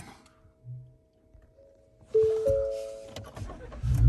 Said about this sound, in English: All right, we're gonna start the truck.